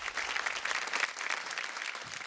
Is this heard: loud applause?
yes